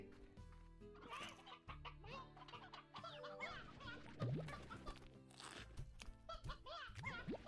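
Chickens clucking in a pen in the game Life as a Rancher, scattered short clucks and squawks mixed with busy game sounds and music, moderately close.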